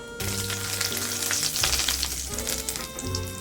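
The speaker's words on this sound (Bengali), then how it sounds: "আমি শুকনো লঙ্কা ভেজে নিচ্ছি এই তেলের মধ্যেই কারি পাতা ভেজে নিচ্ছি" Dry red chillies and curry leaves fry in hot oil, giving a steady, crackling sizzle up close that carries on throughout.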